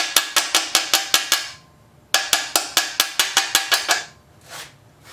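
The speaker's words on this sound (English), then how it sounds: "and then if you have to move it a little bit, just use a little hammer that Jim gave you" Sharp metallic taps from a small hammer in two quick bursts of about seven and ten evenly spaced strikes, with a short pause between them.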